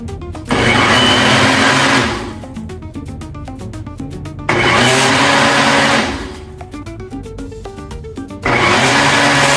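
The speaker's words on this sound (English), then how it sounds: "I'm gonna stuff that in there and then get it blended nice and smooth" A kitchen blender whirs loudly while blending a handful of fresh cilantro into a smooth sauce for a Mexican recipe, running in three strong bursts with brief, quieter lulls between them and no voices.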